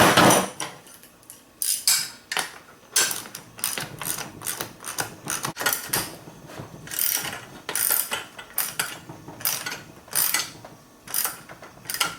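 A ratchet wrench clicks in quick bursts while loosening a 13mm bolt on the seat track of a 1997 Firebird, with short pauses between strokes and close, sharp metallic ticking throughout.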